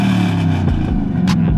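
A lifted 2019 Ram 1500 pickup with the 5.7 engine and a straight-piped exhaust revs hard, a loud, deep, rumbling burst with pitch swinging up and down, close by and without voices.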